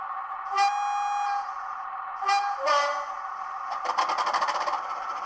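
Model train locomotive Loco 120 sounding its horn: two sustained tones, each about a second long, then a burst of clattering, chugging engine noise, moderately loud and close.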